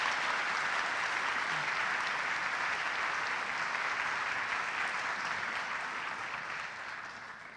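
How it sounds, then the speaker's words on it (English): An awards ceremony audience gives faculty and staff sustained applause, a dense, even roar of clapping that stays loud and barely tapers toward the end. "let's give them a round of applause"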